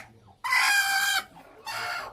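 Free-range country hens kept on a small poultry farm give two loud, close bursts of clucking and calling, separated by a brief quieter gap.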